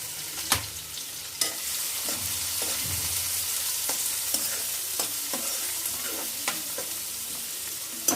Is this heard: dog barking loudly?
no